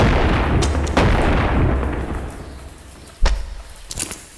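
A shotgun fires in the video game Animal Company with booming blasts over a dense rumbling background. A sharp loud shot lands near the end, followed by another hit.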